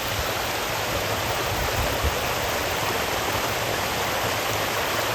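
Steady, close water flow with a broadband rushing hiss, continuous and even throughout, heard outdoors on Broad Street on a November evening, with no voices present.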